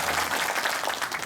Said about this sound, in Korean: 박물관장님 저 박수 한번 쳐주십시오.